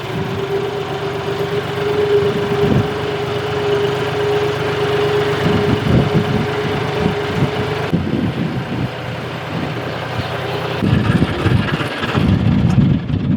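A tractor engine runs steadily at a low, rumbling idle-like drone, close and loud, with shifting rattles and a slight change in tone partway through, without talk.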